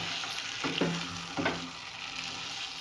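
Green beans for a sem aloo sabji are stirred into a pan of frying spices with chillies, turmeric, salt and cumin, giving steady close sizzling with two brief scraping stirs and no talk.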